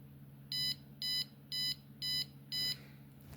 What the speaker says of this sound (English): so the piezo blinks or beeps 3 times